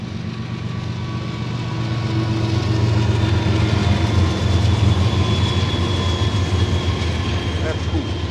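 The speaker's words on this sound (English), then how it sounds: "Now we just gotta wait on a train." A train rolls past near the Gallitzin tunnels in Pennsylvania on a rainy day, a loud, continuous low rumble and drone that swells slightly and stays close for several seconds.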